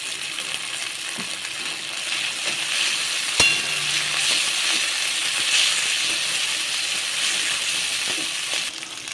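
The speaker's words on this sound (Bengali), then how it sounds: "এবারে দিয়ে দিচ্ছি শুকনো লঙ্কা বাটা দিয়ে দিচ্ছি কাজু বাদাম বাটা" Dry chili paste and cashew paste fry in a pan for a fish curry, with a steady, moderate sizzle and a single sharp utensil clink partway through.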